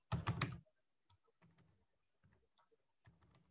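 Computer keyboard typing in an Excel spreadsheet, a quick burst of several near, fairly loud keystrokes, then sparser lighter clicks spaced out over a few seconds.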